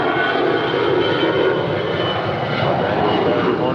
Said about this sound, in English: 525 departing to Seattle. It's an 11-year-old Airbus A320.